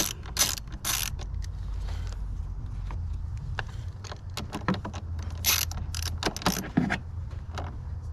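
A ratchet tightening a battery ground nut on a 2022–2023 GMC Canyon AT4, giving up-close bursts of rapid metallic clicking separated by short pauses, over a low steady hum.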